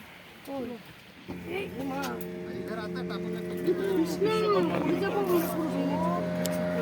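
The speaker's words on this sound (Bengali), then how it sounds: "আর একটা বোট আসছে।" A boat passes on the Mayurakshi river at Massanjore dam, a low steady motor drone building in the background while people chat nearby and a voice speaks over it throughout.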